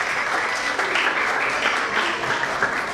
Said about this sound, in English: Keep cheering for your children, parents.